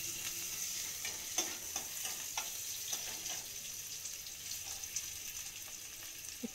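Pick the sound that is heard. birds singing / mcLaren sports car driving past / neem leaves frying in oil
neem leaves frying in oil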